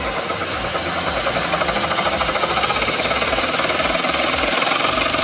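A damaged taper bearing in a Mercedes transfer box makes a loud, continuous rhythmic knocking and grinding over the running drivetrain, with rapid regular pulses that hold steady and slightly intensify.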